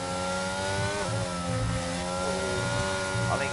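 A race car engine in a sim racing game at a Mexico circuit drones with a steady harmonic whine, its pitch dipping briefly as the throttle lifts, then pulling again. The engine is loud and continuous with no voices.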